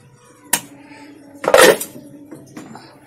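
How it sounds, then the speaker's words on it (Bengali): Vegetables tipped into a pot of khichuri with a clatter of a metal utensil against the rim, one sharp clink, then a louder scraping pour, then a lighter knock, close by. "এবার এই খিচুড়ির ভেতরে আমি ঢেলে দিলাম"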